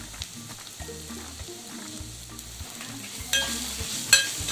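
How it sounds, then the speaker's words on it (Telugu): Veg Manchurian being mixed with garam masala in a pan, a low continuous sizzle with soft stirring scrapes and a couple of sharper clinks near the end, close and without talk. "బాగా మిక్స్ చేసుకోవాలండి."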